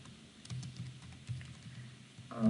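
Someone types code in Visual C# on a computer keyboard, with quiet, rapid key taps running throughout and a louder clack at the end.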